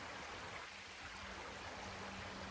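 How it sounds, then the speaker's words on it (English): Small stream of water flowing down toward a lake beside a trail outdoors, a steady soft rushing wash with no break. "less water coming down that little stream there"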